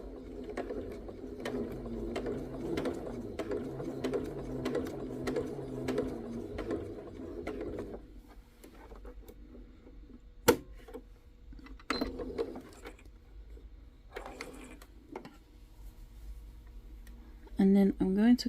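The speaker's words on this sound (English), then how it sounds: "I'm just gonna sew straight across it." Sewing machine stitching straight across a small patchwork brooch, its rapid mechanical ticking running steadily for several seconds, then pausing, with a few short bursts after and quiet talk in the room.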